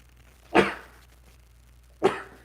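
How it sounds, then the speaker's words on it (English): Two sharp sneezes from a person, about a second and a half apart, close and fairly loud against a quiet room. "oh, sorry for the sneezing"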